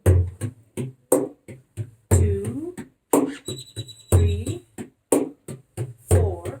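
Hand drum playing a single-ended rolls groove: sharp strokes fall in a steady repeating pattern, close and fairly loud, while a voice counts along between and over the hits.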